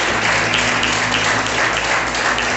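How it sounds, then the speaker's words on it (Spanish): A church congregation applauds the Lord during a Spanish-language worship service, with loud, continuous, dense clapping that fills the room without a break. "Vamos a darle un fuerte aplauso al Señor porque"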